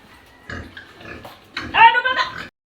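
A farm pig gives short nasal oinks and a louder drawn-out squeal near the end, with people talking close by.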